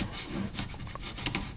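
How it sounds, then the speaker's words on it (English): Paint being scraped off a wall in a wood shop, a few short quiet rasping strokes close to the microphone at an uneven pace. "And then I gotta scrape this off"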